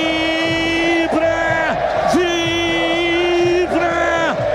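Football crowd at the Majestoso stadium roaring after a Ponte Preta goal: loud, sustained massed yelling and chanting, with one voice sharply prominent in the mix.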